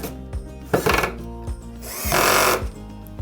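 A screw being driven into a TV wall-mounting bracket with a power driver, giving short whirring bursts and a longer final tightening run, close and fairly loud.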